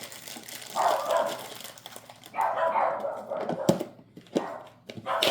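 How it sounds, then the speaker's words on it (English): Dogs bark and yip in short, uneven bursts nearby, with whiny, excited tones between a few sharper thumps. "got a lot of barking going on here"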